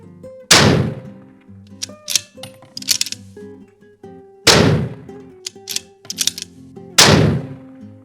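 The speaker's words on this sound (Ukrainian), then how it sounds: "5 пострілів на 100 метрів ми зробили" Three loud shots from a Victrix Armaments Gladio rifle ring out several seconds apart at a 100-metre range, each a sharp crack, with clinks and clattering handling sounds in between.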